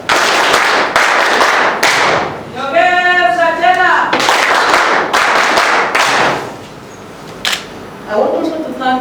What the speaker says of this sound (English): And deserves a better clap.